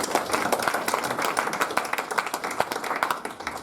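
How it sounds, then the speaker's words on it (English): A crowd at a boxing press conference claps steadily, a dense run of crisp hand claps that stays even throughout. "let's give him a round of applause"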